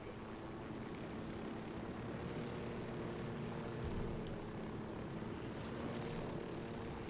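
Helicopter in Tom Clancy's Ghost Recon Wildlands, a steady droning rotor and engine rumble that holds constant throughout, moderately loud with no talk over it.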